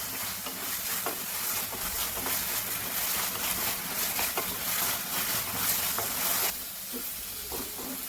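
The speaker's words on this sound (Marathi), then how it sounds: "टोमॅटो सॉफ्ट होईपर्यंत आपल्याला परतून घ्यायचे आहेत।" Tomatoes frying with garlic and green chili in a pan for a dried bombil chutney: a steady close sizzle and hiss with soft scraping stirs throughout, easing slightly near the end.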